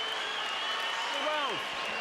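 Boxing arena crowd in Las Vegas during a Mosley vs Vargas fight, a steady broad roar of cheering and applause throughout, with a brief whistle-like sweep rising and falling near the end.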